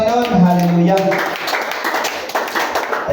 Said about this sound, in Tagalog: Palakpak po sa ating mahal na Panginoon